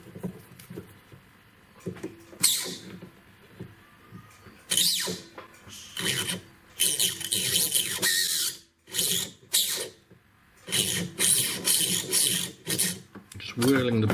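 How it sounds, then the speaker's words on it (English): A burr whirled inside a gypsy-set stud earring setting to open it out, producing short, close raspy grinding bursts that start and stop repeatedly with brief pauses between. "Just whirling the burr around now just to open the setting out."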